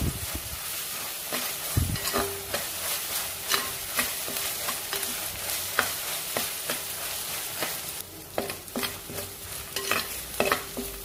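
Ginger garlic paste sizzles in hot oil while a spatula stirs it through, with steady frying hiss and regular scraping strokes against the pan, close and with no voices.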